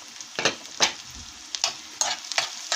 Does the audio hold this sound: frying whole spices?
yes